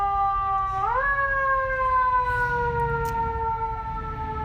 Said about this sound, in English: I feel like there's always a siren for dramatic effect